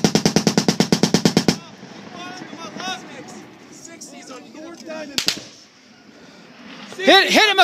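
Rapid M60 machine gun bursts fire from a Chinook helicopter, a loud evenly spaced string of about a dozen shots opening the clip, then shouting voices over rotor and engine noise, with a brief second burst later.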